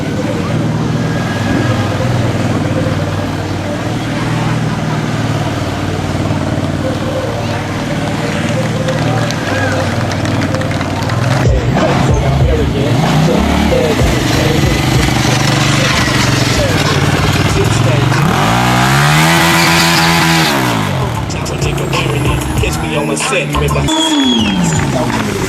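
Sport motorcycles, a TL1000 and a CBR900RR, rev their engines loudly and continuously, the pitch rising and falling in repeated sweeps, with people talking nearby.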